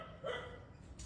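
Dogs barking outside a home, faint and distant, one short yelp rising briefly above a dense, noisy background with no clear speech.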